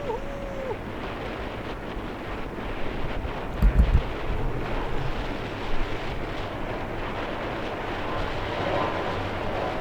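Strong wind buffets the microphone at an airport, a steady low roar with a few heavier gusts, while a voice speaks briefly near the start.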